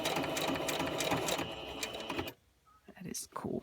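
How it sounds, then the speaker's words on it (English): A sewing machine runs steadily for about two seconds, stitching a fabric panel for a journal cover, with a close, busy mechanical whir, then stops; voices follow in the quieter remainder. "I want the needle to be in the down position because I'm going to pivot at the end here to continue stitching"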